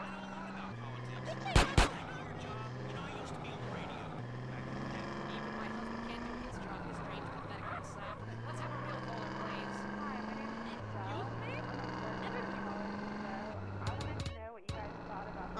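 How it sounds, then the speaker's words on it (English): Gunfire in GTA San Andreas: two sharp, loud shots crack close together near the start, with another brief burst near the end, over a steady vehicle engine drone, game music and voices talking. "I'm shooting at the damn blur, CJ."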